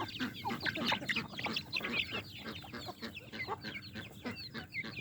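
Chickens cluck and call continuously at close range in a poultry yard with damp ground, a dense overlapping chorus of hens with no talking.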